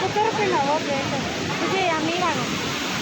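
Water roars steadily through the opened dam gates of Himayat Sagar, a dense continuous rush with loud overlapping voices shouting and talking over it.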